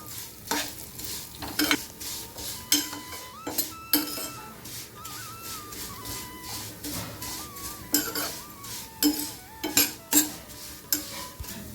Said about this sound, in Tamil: இந்த சேமியா கொட்டி நல்லா இதிலே ரோஸ்ட் பண்ணிடலாம்